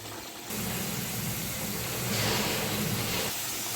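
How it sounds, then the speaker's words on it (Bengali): Pieces of bhola fish go into simmering oil-and-chili curry gravy, setting off a sudden steady sizzle and bubbling hiss that swells slightly midway, with no talking. "মাছগুলো দিয়ে দেবো ঝোলের মধ্যে"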